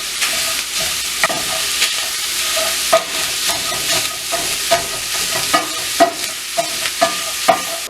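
Bratwurst cooks in a pan with a steady greasy sizzle, broken by repeated sharp scrapes and knocks of a utensil turning the sausages at irregular intervals. No one talks.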